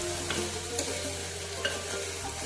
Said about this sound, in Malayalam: എന്നിട്ട് നമുക്ക് നന്നായിട്ട് ഇളക്കി കൊടുക്കാം.